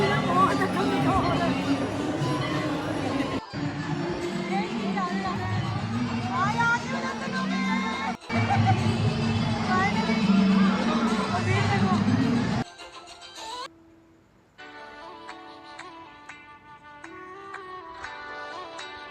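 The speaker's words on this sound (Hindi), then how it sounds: "तो हम चल रहे हैं दर्शन करने और बहुत भीड़ है" Pilgrims crowd a temple in Vrindavan with a steady, loud babble of many voices close by, broken by brief cuts; the hubbub drops off near the end and music takes over.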